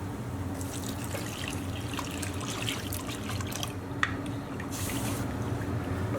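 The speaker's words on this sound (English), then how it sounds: "I'm going to add in 6 cups of full cream milk." Full cream milk pours in a steady liquid stream into a pot of cooked rice, with trickling and splashing at close range and a brief clink near the middle.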